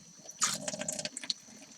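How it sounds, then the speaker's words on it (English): Water sloshing and splashing inside a plastic bag as it is rinsed out at a sink, a short burst of close, gurgling liquid noise followed by lighter trickles and drips, with no voices. "The plastic bag should be rinsed out."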